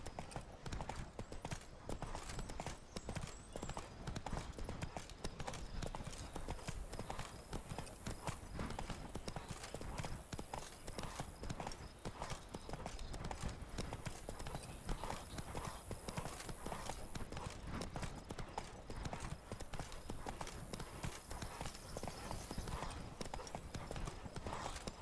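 A horse gallops in the video game Elder Scrolls Online, its hooves beating a fast, steady clip-clop throughout at moderate level, with faint background game sounds.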